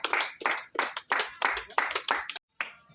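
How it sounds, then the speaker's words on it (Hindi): Hands clap in bursts from an audience welcoming guests at a Republic Day celebration in Mehrauli, Vasant Kunj, Delhi, with an uneven rhythm and a short pause near the end before the clapping resumes. "तालियां थोड़ा बजाएं"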